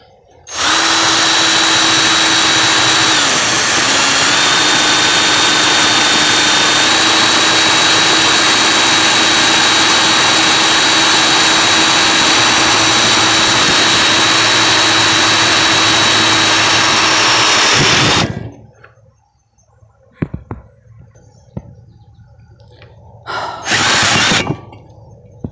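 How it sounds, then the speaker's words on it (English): A power drill runs loud and close for about eighteen seconds, its motor whine shifting slightly in pitch as it bores into a homemade lamp part, then cuts out, followed by quieter handling clatter and a brief final burst. "when it finally starts drilling correctly, it's, gonna have no power left."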